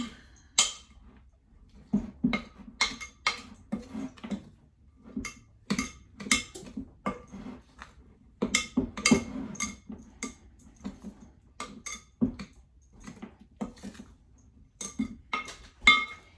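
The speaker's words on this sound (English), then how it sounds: "3 teaspoons of cinnamon, and 2 teaspoons of nutmeg. Just gonna mix that up." A utensil mixes cinnamon and nutmeg together in a bowl with irregular bursts of sharp clinks and scrapes, close and fairly quiet, pausing briefly between strokes.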